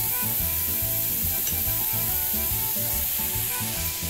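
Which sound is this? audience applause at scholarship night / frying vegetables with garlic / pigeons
frying vegetables with garlic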